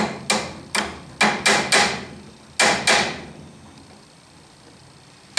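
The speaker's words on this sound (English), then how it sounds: "So I'll just tap it into submission here with my brass hammer" A brass hammer taps a press-fit back gear lever into a Zamak fitting on a 6-inch Atlas 618 lathe: seven sharp metallic knocks, some in quick pairs, close and clear, then quiet.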